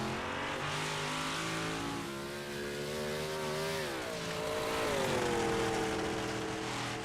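Modified race cars roar around the Lernerville dirt oval during qualifying laps, a loud sustained engine drone with rising and falling pitch as cars accelerate and pass, continuous throughout with no talking.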